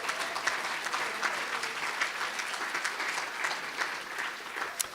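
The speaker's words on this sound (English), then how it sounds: "please give those 12 courageous Assembly members a round of applause" Audience in a hall applauding Citizens' Assembly members, a steady, dense round of clapping that holds throughout at moderate volume, with no talking over it.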